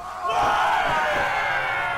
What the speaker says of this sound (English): A cheer rose from the crew.